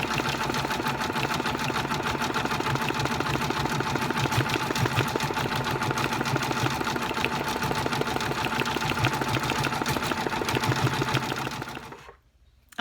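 A Brother Persona PRS embroidery machine stitches a floating hat in a 4x4 hoop, its steady rapid needle clatter and motor whir loud and continuous for about twelve seconds before stopping abruptly into near silence.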